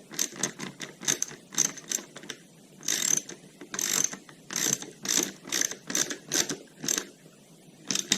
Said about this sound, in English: To the 4mm, tighten the tape cover.